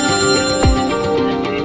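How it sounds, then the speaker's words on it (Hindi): Phone ringtone from an incoming call, playing a steady repeating melodic tone loud and close, with no voices over it. "उनके भाई का फोन आ गया"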